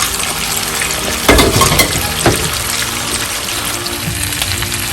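Mutton chops cooking in gravy in a covered pan give a steady, close sizzle and bubbling simmer, with a couple of brief louder stirring or lid clatters early on and no talking.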